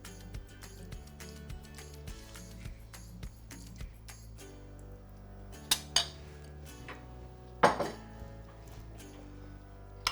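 Dip spooned into small serving dishes beside a vegetable platter, giving light spoon-on-dish clinks and taps scattered over about ten seconds, with a couple of sharper clinks standing out, close and fairly soft.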